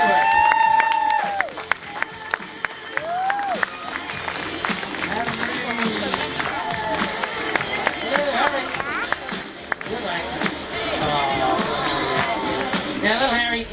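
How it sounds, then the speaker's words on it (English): An audience at a sheep show claps and cheers in a sustained burst of applause, with crowd chatter and a voice over the noise. "Let's have a big clap for our last sheep business."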